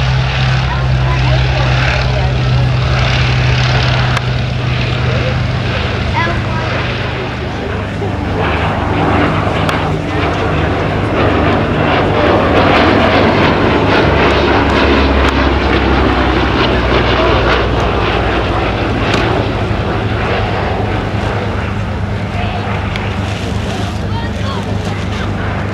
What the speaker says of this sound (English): Westland Lysander 3A.